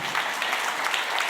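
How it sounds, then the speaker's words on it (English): Audience applause at a conference talk, a brief dense burst of clapping from a crowd, steady and moderately loud, with a faint voice underneath. "A round of applause for Sandra."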